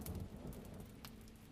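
Rain falling in a steady, dense wash of hiss with scattered drops and a low rumble underneath, continuous and fairly soft, with no voices.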